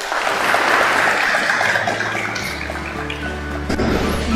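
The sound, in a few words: applause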